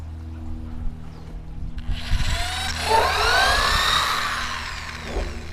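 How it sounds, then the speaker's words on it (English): A power drill bores a hole into an aeroponics tower, a rising whine with grinding bite that swells for a few seconds after some handling knocks, fairly close and without talk. "Looks like 3, so we'll drill another one here."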